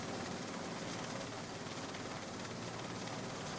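A helicopter hovers over a ship at sea, its rotor and engine roar loud and unbroken from start to finish.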